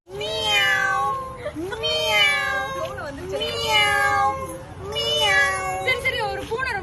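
A person imitates a happy cat, producing four drawn-out, wavering meows in a steady sequence with short pauses between them, clear and close.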